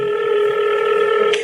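A telephone line rings during a call, a steady electronic tone that holds level and close for a moment before cutting off, with no voices over it.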